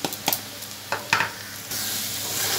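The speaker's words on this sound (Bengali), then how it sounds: "মশলা দিয়ে একটু ভেজে নিয়ে" Potatoes with a pinch of sugar and spices fry in a pan, a few sharp stirring scrapes giving way to a steady, loud hiss of sizzling oil for the last second.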